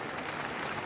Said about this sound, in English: There was this very polite, very discreet clapping